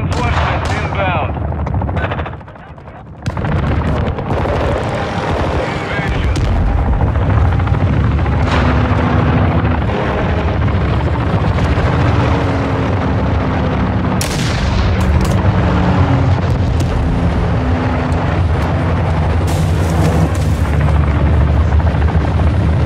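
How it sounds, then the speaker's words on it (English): In Call of Duty Warzone 2, a cargo helicopter roars in with a dense, continuous rotor and engine din, loud and near, mixed with booming gunfire and explosions while radio voices speak over the battle. "Cargo helo is en route to the AO."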